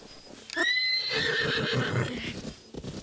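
A horse in Zelda: Breath of the Wild gives a loud, close whinny with a shaky rising-then-falling neigh, followed by snorting breaths, alone without talk.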